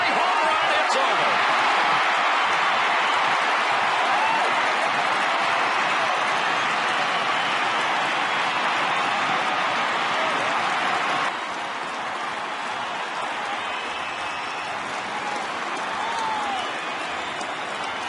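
Baseball stadium crowd in Toronto roars for a Blue Jays home run to left field, a dense, sustained wall of cheering and applause that stays loud throughout and eases only slightly near the end.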